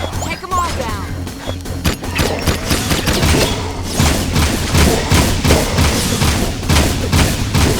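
Rapid bursts of weapon fire from the video game Jak II, loud overlapping shots and thuds in quick succession with game sound effects throughout.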